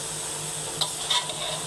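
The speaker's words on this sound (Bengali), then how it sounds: "মশলার সঙ্গে লাউটা কষাইয়ে নেব" Bottle gourd stir-fried with spices in a pan, a steady close sizzle with a few scraping stirs of a utensil, no talking.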